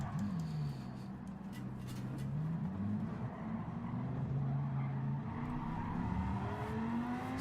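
A Lamborghini engine racing in Gran Turismo 7, steady high-revving drone that sags and climbs through gear changes as the car oversteers, continuous and moderately loud with faint tire noise.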